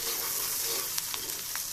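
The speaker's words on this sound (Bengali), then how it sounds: "ডিম ভাজার ওই তেলে আমি একটু পেঁয়াজ, রসুন, আদা, এলাচ, দারুচিনি সব ভেজে নেব" Onion, garlic, ginger, cardamom and cinnamon fry in oil left over from frying eggs, giving a steady close sizzle with a few sharp crackles and pops.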